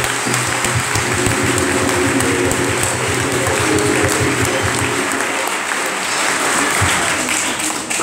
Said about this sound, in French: Applaudissons fort pour le Seigneur